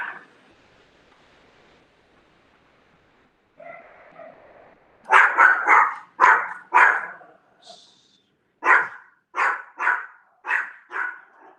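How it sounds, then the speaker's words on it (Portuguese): A dog barks excitedly indoors in a series of sharp, loud barks coming in quick bursts after a quieter stretch, with a higher yelp mixed in. "O cachorro aqui surtou."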